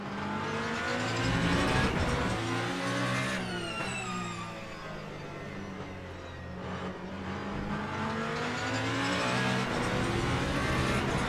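A Ferrari race car engine in Le Mans Ultimate at Fuji, a loud, steady high-pitched roar that holds near and constant, with rising and falling pitch as the car shifts through the gears.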